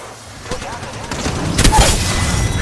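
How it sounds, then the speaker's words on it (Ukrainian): Loud, booming Apex Legends gunfire with a sharp blast and rumbling tail, while a voice talks over it. "це прикольний постріл останній був"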